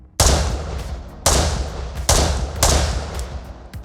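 Rifle shots on an outdoor range, four sharp loud cracks fired in quick succession, each trailing a short echo, with no talking.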